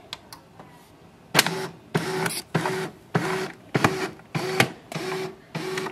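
An HP LaserJet M209dwe printer powering on and starting up, giving a loud, steady series of mechanical whirs and clunks, roughly nine regular pulses each about half a second long, with no voices.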